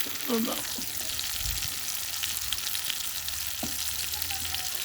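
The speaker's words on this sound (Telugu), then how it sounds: "ఉల్లిగడ్డ టమాటా వేసుకున్నాక వేగుతుంది" Onion and tomato fry in a hot pan with a steady, close sizzle throughout, plus a few scraping stirs near the start.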